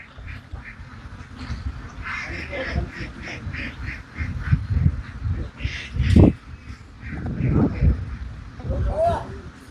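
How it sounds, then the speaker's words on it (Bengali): Ducks quacking at a duck farm, with repeated overlapping calls from a flock rising and falling across the clip, some louder bursts close by, under a steady background murmur. "শুধু হাঁস আর হাঁস।"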